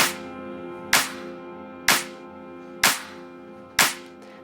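Deep house clap samples played in FL Studio: five sharp, bright claps at an even pace about a second apart, each with a short ringing tail, with no talk over them.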